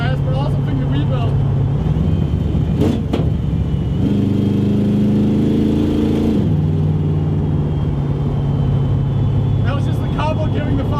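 A 300HP Firebird's engine heard from inside the car rises into a stronger revving pull midway, then settles back to a steady drone, with people talking over it.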